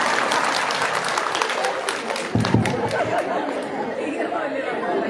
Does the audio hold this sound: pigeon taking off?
no